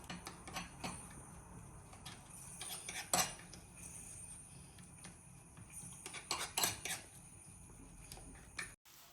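A spoon scrapes and clinks in a bowl while ghee and cornflour are worked into a thick paste, with quiet irregular clatters and a few sharper knocks close by, and no talking.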